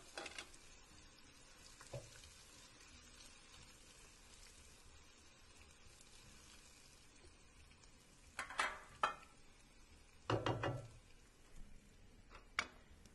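Cumin seeds dropped into hot oil for a mashed eggplant dish sizzle faintly, then a few louder bursts of crackle and stirring break in near the end.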